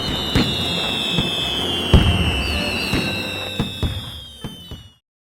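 Diwali firecrackers pop in a loose series of sharp bangs over a whistling hiss, then cut off abruptly.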